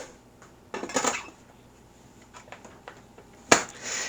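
Metal clanks and rattles as a lid is set onto a water-bath canning pot holding jars, followed by quieter clinks and one sharp final clatter.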